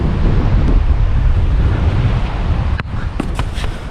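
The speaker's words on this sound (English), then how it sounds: "it's blowing hard" Strong wind roars across a microphone on a choppy coastal bay, a steady, loud, buffeting rush with a few sharp gust thumps near the end and no talk.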